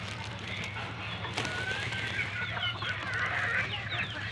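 Gamefowl hens of battle cross breeding stock cluck and call in a poultry yard, a steady scatter of soft clucks over continuous low background hum, with no voices.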